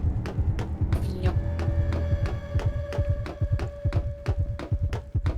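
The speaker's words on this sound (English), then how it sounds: "Why is my heartbeat 101 and staying there?" Steady game heartbeat from the survival horror video game Illbleed, thudding rhythmically at an elevated, fast pace with a low hum droning underneath, loud and close throughout.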